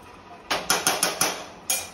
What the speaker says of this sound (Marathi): आता हा राईस टाकल्यावरती चांगलं परतवायचं